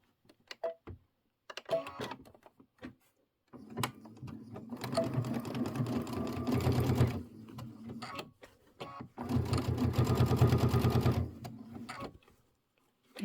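A travel sewing machine stitches out a gingerbread people quilt design in two long, steady bursts of rapid mechanical whirring, with brief clicks and pauses between runs and no talking.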